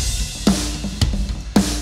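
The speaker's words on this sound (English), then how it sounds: "you can start it off with a crash" Sampled rock drum kit hits with a crash cymbal from the Robot Dog Drums library, three punchy strikes about half a second apart, loud and close.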